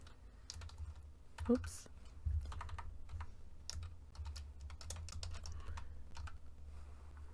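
Typing on a computer keyboard, a quick stream of soft close key clicks running throughout, with a short spoken exclamation briefly over it.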